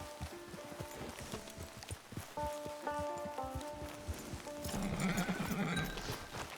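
Horse hooves clip-clop steadily on open ground in the Red Dead Online video game, with a whinny rising near the end over ambient music and rustling.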